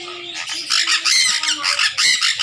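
A sun conure parrot squawks loudly and repeatedly at close range, harsh screeching calls coming in quick bursts with short pauses between them.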